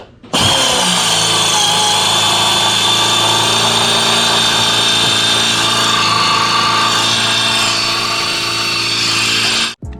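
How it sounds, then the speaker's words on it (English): A power drill bores steadily through metal on a Nissan 350Z, a loud continuous whine with a grinding edge that holds for nearly ten seconds before cutting off abruptly, alone without voices. "You can see it starting to drill through"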